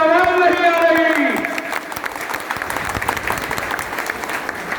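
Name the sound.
crowd applause at a political speech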